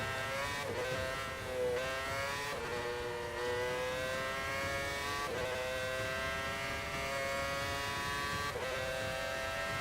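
In Forza 5, a race car drives hard with a loud, sustained engine drone whose pitch repeatedly climbs through the gears and drops at each shift, continuous with no talk.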